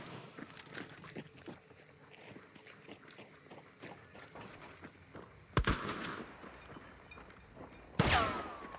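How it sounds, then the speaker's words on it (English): A lantern bursts in a video game when a burning player character stands too close, heard as two sharp, loud explosive cracks, one mid-way and a bigger one near the end, after a stretch of quieter footsteps and clatter. "And then that lantern blew up because I stood too close to it while I was on fire"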